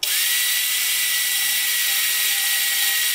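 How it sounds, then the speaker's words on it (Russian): An electric kitchen mixer winds thin yarn onto a bobbin on the floor, a steady high motor whine that starts abruptly and holds at constant loudness, close up, with no speech. "Бобина стоит на полу, я включаю миксер."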